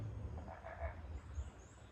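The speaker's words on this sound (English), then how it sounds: "Did y'all hear the frog?" A frog croaks low and faint in a couple of short, soft bursts against a quiet background hum.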